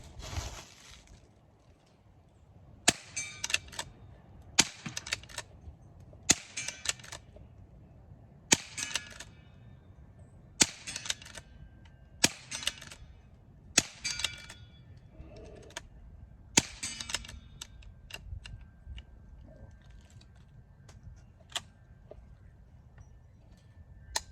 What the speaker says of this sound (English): So cock it, brings it into battery, and we're ready to shoot and see how we do.